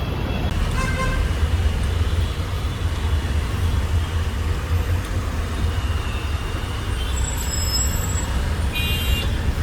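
Heavy road traffic crowds a highway near a bus carrying travellers out of Mumbai, a constant loud engine rumble with short horn toots that come through near the start and again toward the end.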